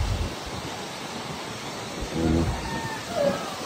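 Gusty typhoon wind on a farm buffets the microphone with low rumbling bursts, rising and falling over a few seconds.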